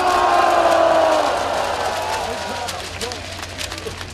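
A large crowd at a rally roars and cheers in a loud, sustained shout that gradually fades into scattered voices and whoops.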